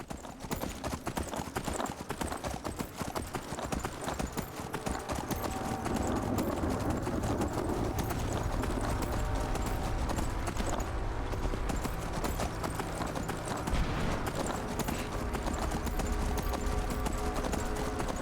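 Horse hooves clip-clop steadily in Skyrim, with a rapid close rhythm that continues the whole time over a dense game backdrop, and the trotting grows fuller midway.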